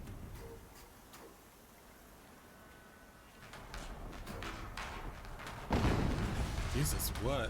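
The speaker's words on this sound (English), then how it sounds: "Another explosion." A distant, muffled explosion in Horizon Zero Dawn Remastered, a low boom that swells near the end over a quiet rumbling background, with a voice speaking.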